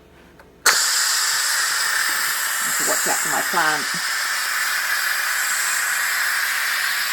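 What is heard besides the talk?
steam venting from an Instant Pot Pro pressure cooker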